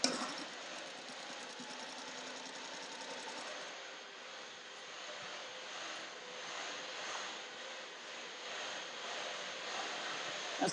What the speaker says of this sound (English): I made sure it was pressed open before I sewed over it.